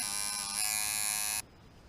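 Rubber band tension tattoo machine running at 6.1 volts gives a steady, bright electric buzz for about a second and a half, then cuts off abruptly, leaving faint background.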